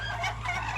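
Muscovy ducks on a backyard farm give a loud, close, raspy honking call that runs through the whole brief moment.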